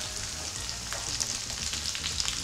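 Chopped bell peppers sizzle in a hot frying pan for shakshuka, giving a steady close crackle with small pops and no voices.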